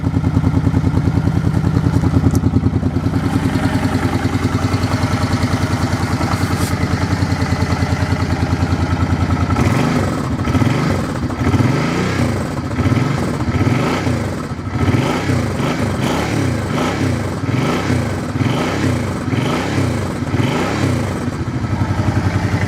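A motorcycle engine idles steadily up close at first. It then gets a run of short, light throttle blips, each rev rising and falling in quick repeated swells. No one speaks.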